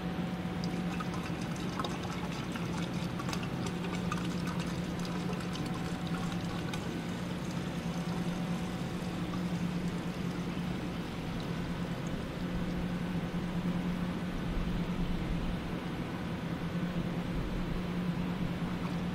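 A gallon of water pours into a pipe in a continuous, gurgling stream for a long stretch, a steady rushing flow heard up close without talking.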